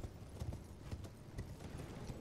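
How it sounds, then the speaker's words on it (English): Horse hooves clip-clop at a steady galloping rhythm in Elden Ring, close and moderately loud over a low rumbling background, with no talking. "we can use our horse here, which is really good"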